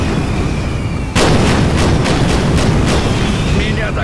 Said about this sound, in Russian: Это в мою честь, салют!